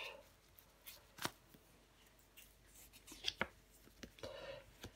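Tarot cards shuffled and handled in quiet, soft papery riffles and sharp flicks and taps scattered unevenly, close and faint, with no talking.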